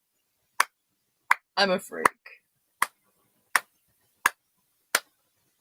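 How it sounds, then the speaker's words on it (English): Slow clap: single sharp hand claps spaced evenly about every three quarters of a second, with a brief burst of speech between the second and third claps. "Slow clap."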